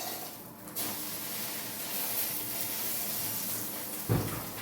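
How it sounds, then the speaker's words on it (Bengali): An egg omelette cooks in a pan with a steady, broad hiss and sizzle that runs throughout, swelling after a brief dip and ending with a short clatter. "রান্না হচ্ছে ডিমের অমলেট"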